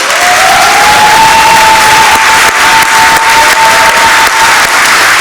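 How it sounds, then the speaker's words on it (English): Audience applause at an annual meeting, a sustained, dense wash of clapping that fills the whole stretch loudly and evenly, with a steady whistle-like tone running underneath. "Please join me in a round of applause"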